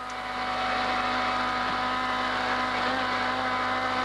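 A race car engine screams at a constant pitch near 8,200 rpm during the 1980 Hardie-Ferodo 1000 at Bathurst, loud and steady throughout, with no voices.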